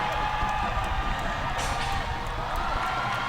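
A stadium crowd cheers and roars at a Korea versus Japan rugby sevens match, a dense, continuous wash of voices and whoops.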